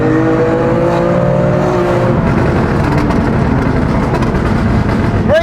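A BMW M2 Competition fitted with a Scorpion exhaust roars loudly and steadily, with a sustained engine drone and rising revs throughout.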